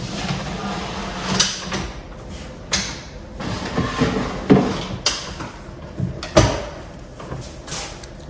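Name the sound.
cabinet drawers being installed and closed softly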